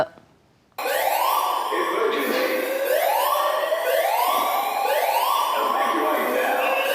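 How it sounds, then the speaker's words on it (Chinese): A loud wailing alarm siren inside a shopping mall rises and falls in repeated sweeps, starting abruptly after a brief quiet moment and continuing steadily. "一直有警报甲广播声通知民众离开"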